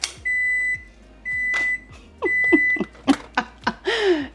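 A kitchen appliance beeps in three long steady tones, close and loud, followed by a few short clattering knocks and a brief whooshing rustle.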